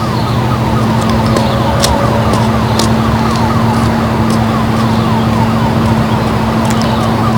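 Wailing sirens of emergency vehicles during the 1997 Grand Forks flood, a continuous rhythmic up-and-down sweep sounding over a constant low drone and steady outdoor noise, with no one talking.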